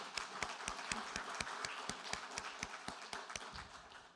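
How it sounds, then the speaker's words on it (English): Audience applauding youth contest presenters, a steady continuous patter of many hands with a few sharper, rhythmic claps standing out, heard from a distance and fairly faint. "let's give them all one more round of applause"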